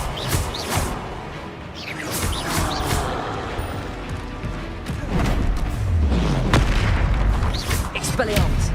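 Confringo fire spells exploding in Hogwarts Legacy combat, heavy thudding booms landing several times amid cluttered battle noise, the blasts loudest and deepest toward the end.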